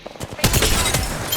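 A dense burst of automatic gunfire in the Apex Legends video game, rapid overlapping shots forming a loud continuous rattle after a few scattered pops, close and harsh.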